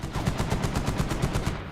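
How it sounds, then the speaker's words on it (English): PKM machine gun firing in the shooter game Medal of Honor (2010), a rapid sustained burst of evenly spaced shots, loud and close with no talking. "Now we've got a PKM gunner on us."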